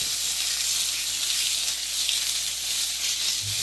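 Steak sizzling in a smoking hot pan, a loud, continuous bright hiss of frying that holds steady, with a low thump near the end.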